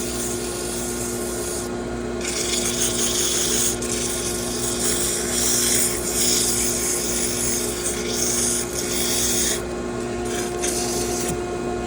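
Sandpaper rubbing against a wooden pepper mill spinning on a lathe, a steady loud abrasive hiss over the constant hum of the lathe motor, close and continuous without talk.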